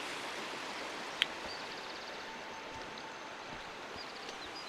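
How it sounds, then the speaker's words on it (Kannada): Spring water flowing down a hillside near Mudigere, a steady soft rushing wash with one brief sharp click partway through. "ನೋಡಿ ಅದು ಮೇಲ್ಗಡೆಯಿಂದ ನೀರು ಬರುತ್ತೆ"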